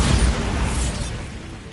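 A Bombarda spell explosion in Hogwarts Legacy, a short loud booming blast with a rumbling, debris-filled tail that fades over about two seconds.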